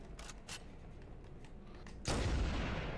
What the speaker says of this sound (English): how are these guys shooting so fast?